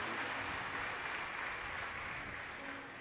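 Sustained applause from a crowd gathered at a Shiv Mahapuran religious discourse, a broad, steady clatter of clapping that fills the space evenly and fades slightly toward the end, with no voices standing out.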